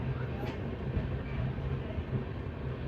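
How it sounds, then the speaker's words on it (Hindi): The Durg Puri Intercity train rolls into Mahasamund railway station with a low, steady rumble of wheels and carriages, heard from on board under a voice speaking. "अराइवल हो रहा है महासमुंद रेलवे स्टेशन पे।"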